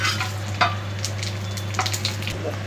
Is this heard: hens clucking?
no